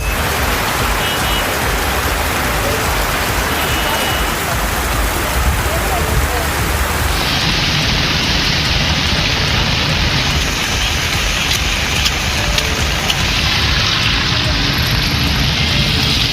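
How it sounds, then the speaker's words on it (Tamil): Heavy rain pours steadily over a hill town in Kodaikanal, a dense continuous hiss of downpour on surfaces that stays loud throughout with no talking. "கொடைக்கானல் மற்றும் அதன் சுற்றுவட்டார பகுதிகளில் ஒரு மணி நேரத்திற்கு மேலாக கனமழை பெய்தது"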